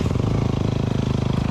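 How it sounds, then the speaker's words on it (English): An enduro motorcycle engine runs hard and close on a muddy side track in Vietnam, a dense, loud, throbbing drone with a fast steady pulse, alone and without voices. "Rev the engine, let the clutch loose, and made it through."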